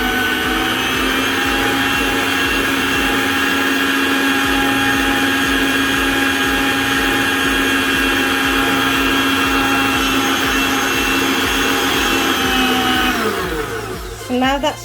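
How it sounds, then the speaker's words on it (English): Electric mixer whirring steadily through pink cupcake sponge batter, a loud constant motorized hum that cuts off abruptly near the end, with a bit of speech. "I'm going to mix it again."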